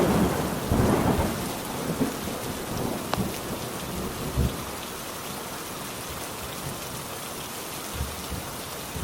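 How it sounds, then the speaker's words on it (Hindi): Heavy rain pours down steadily as a dull rumble of thunder rolls at the start, with scattered heavier drops and patters over a constant wash of rainfall. "अगले दिन सुबह बहुत बारिश हो रही थी।"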